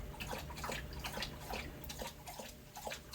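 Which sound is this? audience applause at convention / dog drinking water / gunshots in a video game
dog drinking water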